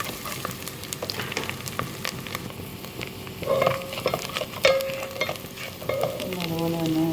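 Garlic frying in a pan for a Kuttanad-style duck curry, sizzling steadily throughout with occasional scrapes and stirring clinks of a utensil, close and alone.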